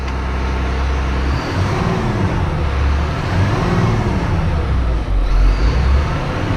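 A 2006 Blue Bird Vision school bus engine holds a high idle with a steady, loud, close droning rumble that stays even throughout, with no voices.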